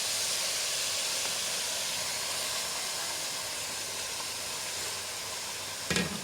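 Masala hitting hot oil in a pan for daal gosht gives a steady, loud, hissing sizzle that fills the whole stretch with no talk, ending in a brief stirring clatter.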